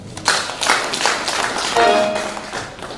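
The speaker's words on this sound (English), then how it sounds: "I think we can clap for that." Applause from a church congregation, a dense wash of many hands clapping at close range that swells and fades over a few seconds, with a faint tone sounding partway through.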